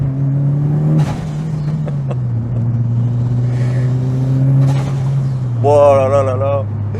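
Mitsubishi Lancer Evolution VIII engine and exhaust at close range, a steady droning idle that dips then holds before a sharp rising rev near the end, with someone speaking over it.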